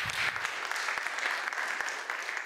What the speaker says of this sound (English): big applause for everybody who voted